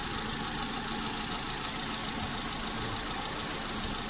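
A Mitsubishi Lancer engine idles steadily during a coolant flush, a loud, even, continuous hum with no gaps and no talk.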